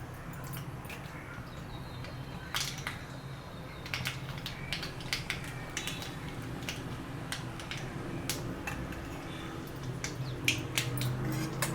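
Mustard seeds popping in hot oil in a pan while tempering for a sweet mango pachadi, a steady soft crackle with scattered sharp pops and ticks spread throughout.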